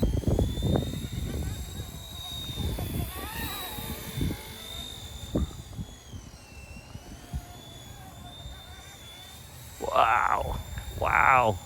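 An RC Era C189 MD500 model helicopter flies outdoors in gusty wind, its steady high rotor and motor whine rising and dipping as it turns, heard alongside wind buffeting and someone talking.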